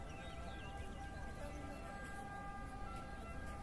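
A fire engine siren wails in the distance with steady sustained tones, faint beneath outdoor ambience near a fire.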